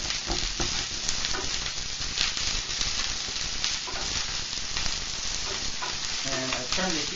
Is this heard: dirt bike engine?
no